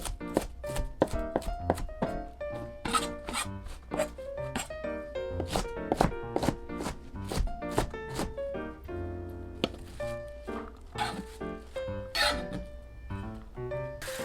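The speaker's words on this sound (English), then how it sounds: "After cutting the cabbage" Quick, regular knife chops thud against a cutting board as cabbage is cut into squares, a steady rhythmic series of crisp cuts over soft background music.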